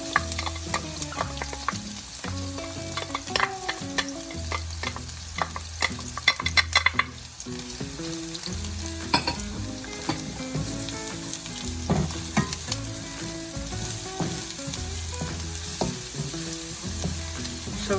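Chopped garlic fries in a pan for pork giniling, a continuous loud sizzle with frequent scraping stirs of the utensil against the pan, all close and without talk.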